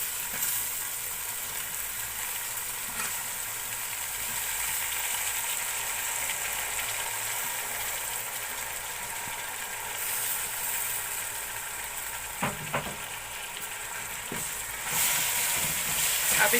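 Tomatoes and potatoes frying in a pan for spinach and potato sabzi, giving a steady soft sizzle with a few faint clinks and scrapes of stirring.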